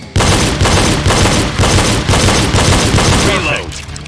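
Rapid pistol fire in the video game Reload during an El Presidente drill, with loud, close shots in quick succession across the whole stretch before a brief sharper metallic sound near the end.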